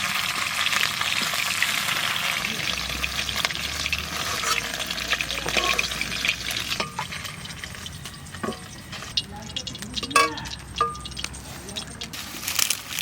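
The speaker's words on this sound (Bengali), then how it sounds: "হালকা ভাজা দেবো, তারপর তুলে নিচ্ছি মাছটা, বেশি ভাজবো না" Pabda fish lightly frying in hot oil in a kadai: a loud, dense sizzle that fades into sharper crackles, with metallic stirring clinks and scrapes, close by.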